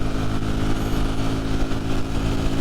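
A Ducati Streetfighter V4 naked motorcycle being ridden, its engine droning loud and steady under heavy wind rush throughout, with no break in the roar.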